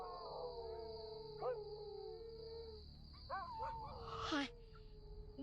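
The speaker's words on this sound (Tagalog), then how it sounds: "biglang umalulong ang mga aso sa kapitbahay" Neighbourhood dogs howl at night in several rising and wavering howls, partly overlapping, over a steady faint background tone. No one speaks.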